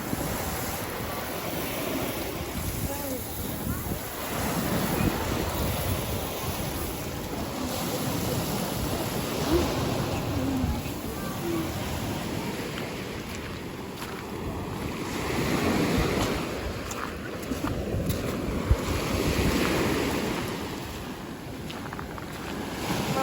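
Steady roar of sea waves breaking at a seaside shore, continuous and fairly loud, with wind buffeting the microphone throughout and no one speaking.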